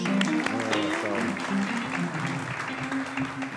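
Studio audience applause welcoming a rapper onto a Turkish late-night talk show set, steady clapping filling the room with a host's voice and music-like tones running beneath it.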